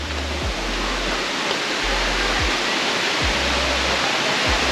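Bokadkada waterfall near Vasai Virar pours clear water at a reduced flow, a loud, dense, continuous roar heard close up with low thumps from wind or handling.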